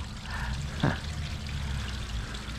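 An outdoor water fountain trickling steadily in a yard, a soft continuous splash and babble at moderate distance, with one brief louder gurgle partway through.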